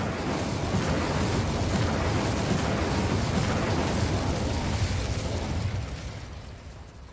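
An Incendio fire spell is cast in Hogwarts Legacy, giving a loud, sustained roaring burst of flame that stays steady for several seconds and then fades away, with no voices.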